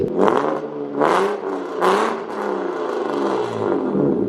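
A loud exhaust on a 25-year-old BMW E36 325i blares close by as the engine is blipped three times in quick succession, each rev swelling and falling back before a steadier, droning rev carries to the end, with no talking.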